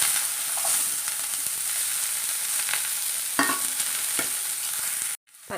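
Sliced onion sizzles steadily in hot coconut oil alongside mustard seeds and dried red chilli for a cabbage egg thoran, a close, continuous frying hiss with a few soft stirring clicks, then a brief cut near the end.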